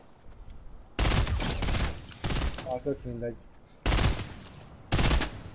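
Bursts of Fortnite gunfire from a video game, several loud rapid volleys separated by short gaps, with people talking between and over the shots.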